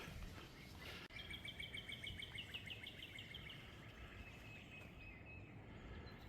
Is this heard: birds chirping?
yes